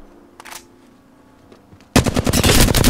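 Automatic gunfire from the Apex Legends shooter on Xbox One X erupts loud and close in a sustained rapid burst, after a couple of brief fainter shots.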